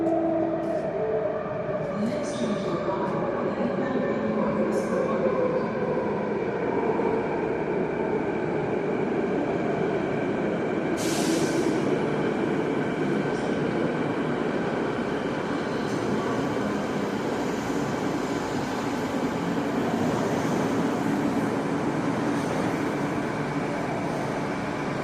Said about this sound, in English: This is just your Canada Line train